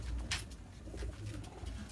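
Teddy pigeons coo softly and repeatedly nearby, low throaty calls over a background of rustling and faint noise.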